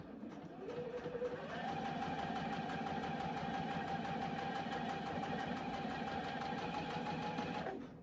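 A JUKI sewing machine runs continuously, stitching the front and back pieces of a holiday stocking together with a steady, close mechanical whir and rapid needle rhythm for about seven seconds before stopping.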